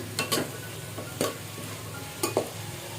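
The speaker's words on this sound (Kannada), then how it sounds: "ತರಕಾರಿ ಸ್ವಲ್ಪ ಎಣ್ಣೆಯಲ್ಲಿ ಚೆನ್ನಾಗಿ ಬಾಡಬೇಕು" Vegetables sauté in a little oil for vermicelli upma: a soft background sizzle broken by a few distinct scraping stirs of a spoon against the pan, close and fairly quiet, with no speech.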